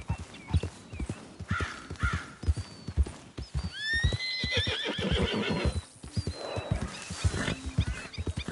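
A horse in a PS4 video game clip-clops at a steady trot, hooves close and rhythmic, with a loud whinny partway through over the footfalls.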